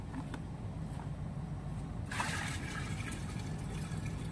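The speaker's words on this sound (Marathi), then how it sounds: "चला आता घेऊन आलोय पाणी टाकूया" Water poured into a cooking pot set on a lit wood-fire stove, to be boiled for chicken biryani rice: a low steady background rumble, then a close, rushing splash of pouring water that starts midway and continues to the end.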